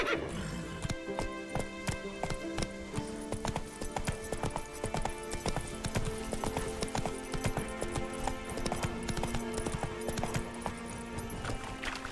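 Horse hooves clip-clop steadily at a trot in The Witcher 3, a continuous rhythmic beat over game music and ambience, with a brief whinny mixed in.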